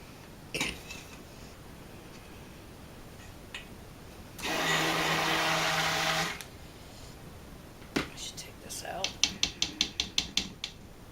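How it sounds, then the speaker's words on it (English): A stick blender whirs steadily for about two seconds, mixing oils and lye for cold process soap amid quiet kitchen clatter, followed by a string of sharp taps. "going to get my stick blender ready."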